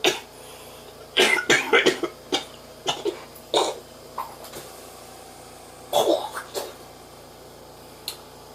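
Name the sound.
cough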